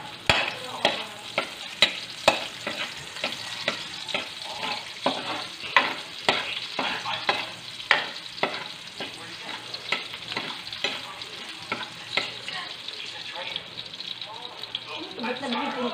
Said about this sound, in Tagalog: So, ito po, magigisa na po.